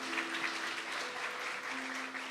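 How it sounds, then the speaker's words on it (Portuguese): A church congregation applauds during a morning service, a soft, distant, steady patter of many hands clapping with a faint sustained tone behind it. "Você pode dar um aplauso a Ele, Jesus"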